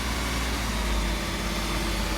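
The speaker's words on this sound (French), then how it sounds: "On sent quand même une espèce d'agressivité du moteur" A 1990 Mercedes SL 500 engine runs steadily, a loud, close, continuous low rumble with no speech over it.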